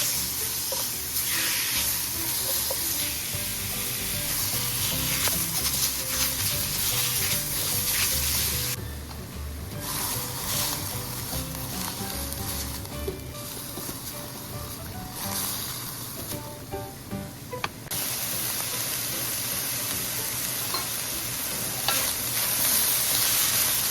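Ground pork browning in a hot pan while fried rice is being made, a steady close sizzle with scraping and stirring strokes running throughout, no voices.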